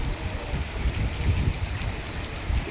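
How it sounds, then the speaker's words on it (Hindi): Heavy rain falling steadily with thick water pouring off a roof, a dense continuous wash of splashing and drumming close by, with no talking. "ये छत का पानी भी कितना मोटा निकल रहा है। बहुत तेज बारिश हो गई है, बहुत तेज।"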